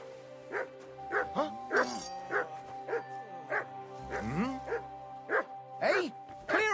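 A dog in the medieval video game Kingdom Come: Deliverance II barks on command, giving a run of about a dozen sharp, evenly spaced woofs close by, with some yips mixed in.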